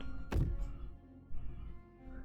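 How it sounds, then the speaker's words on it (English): A heavy thump from footsteps on a staircase in the video game Slay the Princess, one loud low impact near the start followed by softer, muffled thuds against a low ambient background. "Movement on the stairs. Thump. Thump. Thump."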